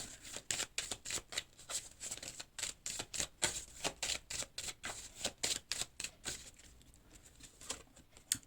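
Tarot cards shuffled by hand in a quick, steady run of crisp riffling snaps, close and fairly quiet, with no voice over them.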